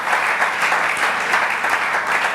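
A church congregation at a Christian service breaks into steady, enthusiastic applause, a dense even patter of many hands clapping for a couple of seconds.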